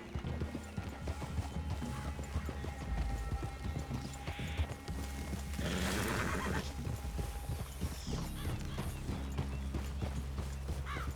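In the Red Dead Redemption 2 video game, horses clop with steady hooves on the ground, and one gives a loud neigh midway. Faint mechanical clinks and ambient game sounds run underneath.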